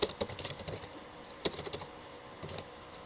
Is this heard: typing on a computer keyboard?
yes